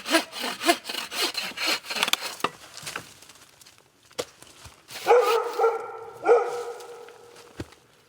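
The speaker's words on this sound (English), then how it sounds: "I'm going to saw up a bunch so I can stoke it throughout the night" Hand saw cutting through wood at a winter campsite, a steady rhythmic back-and-forth rasping for the first few seconds, then a dog barking several times nearby as the sawing pauses.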